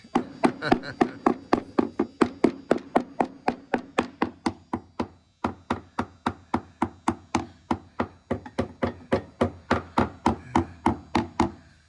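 A steady series of dull, woody knocks from tapping on plywood in the rotted replacement bottom of a 1956 Capri repeats at an even pace, close and fairly loud, with a brief pause midway before the tapping resumes.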